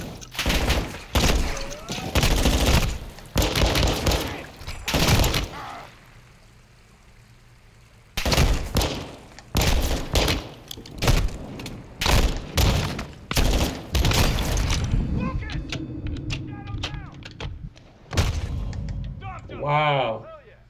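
Gunfire in the Call of Duty Modern Warfare II video game: loud, dense bursts of shots and heavy thuds come in clustered volleys with a short lull, and voices speak between and over the firing.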